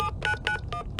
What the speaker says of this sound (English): I wonder if it dials out.